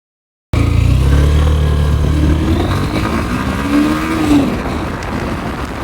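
A Honda X-Blade 160 motorcycle runs through an ABS braking test, its engine droning loudly and steadily with a rising then falling whine as speed changes, close up with no talk.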